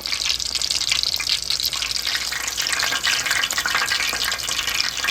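Frozen chicken and corn croquettes sizzle in fresh tempura oil, a steady, dense hiss of bubbling frying that holds evenly close up throughout, with no talk over it.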